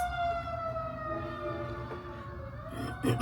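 Emergency vehicle sirens wail steadily outside, their long sweeping tones sustained across the whole stretch with rumbling background noise underneath and no talk.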